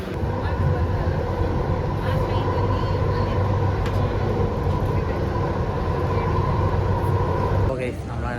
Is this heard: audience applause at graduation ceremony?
no